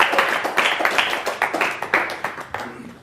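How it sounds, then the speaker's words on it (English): Audience at a live magic lecture claps for a volunteer coming up on stage, a quick steady patter of many hands lasting a few seconds, fairly close and without talk over it. "Give him a round of applause."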